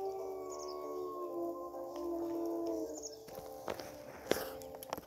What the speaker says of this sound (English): we can howl once more before we continue.